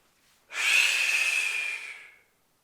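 A single long, steady breath drawn and pushed through the body during nauli abdominal pumping, soft and airy, holding for close to two seconds before fading out, with no talking.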